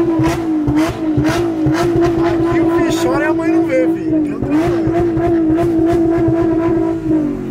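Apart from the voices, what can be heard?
car engine revving against rev limiter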